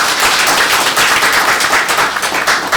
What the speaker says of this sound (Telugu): ఆ విద్యార్థులకు ఒకసారి అభినందనలు చెప్తూ చప్పట్లు పెట్టండి.